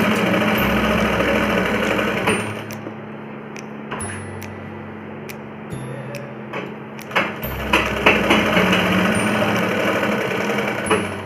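A sewing machine stitching a palazzo, running in a loud, close, steady whir that pauses and restarts several times, with small mechanical clicks between runs.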